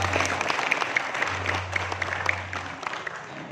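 An audience at a Karang Taruna community youth gathering in Dawarblandong, Mojokerto, applauds with dense, crackling claps. A low steady hum runs underneath, and the clapping thins slightly toward the end.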